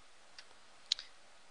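A single computer mouse click, short and crisp, is heard once in near silence, with a fainter tick just before it.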